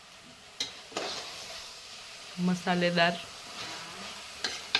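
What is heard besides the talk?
vegetables and rice frying and being stirred in a pan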